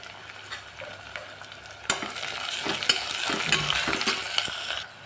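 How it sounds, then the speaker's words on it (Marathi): Shredded cabbage sautéed in oil for Chinese khichdi, a quiet sizzle that jumps louder as the vegetables go in and are stirred, with close scraping and clattering strokes for a few seconds. "दोन मिनटं पत्ताकोबीला परतून घेऊ"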